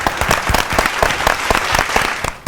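A studio audience at a children's TV game show claps for two competing teams at the end of the contest, a dense, loud burst of many hands with no talking over it.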